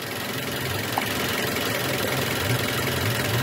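A car engine idles steadily during an idle speed control valve test, a constant close rumble as the RPM is lowered, with no talking.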